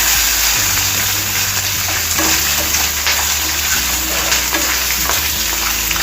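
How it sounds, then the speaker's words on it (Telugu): Green chilies and dried red chilies fry in oil over a medium flame, giving a loud, steady sizzle and hiss with occasional stirring scrapes, close up and with no talk. "మీడియం ఫ్లేమ్ మీద పెట్టి వేయించుకోవాలండి, లేకపోతే మాడిపోతాయి మనకి."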